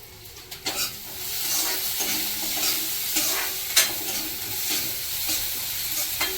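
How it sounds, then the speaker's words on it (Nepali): Onions frying in a pan for a Nepali chhola curry with coriander powder, sizzling steadily while being stirred, with occasional scrapes and clinks of the spoon against the pan, loud and close, no voices. "यो हुँदैछ तपाईँको फ्राईमा प्याजको फ्राई हो।"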